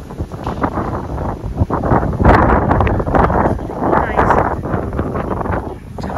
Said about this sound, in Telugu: చాలా గాలి వస్తుంది అసలు చల్లగా.